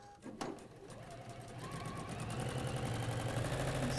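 A sewing machine top stitching a fabric bag starts after a couple of clicks and then runs steadily with a fast mechanical whirr, nearby and continuous.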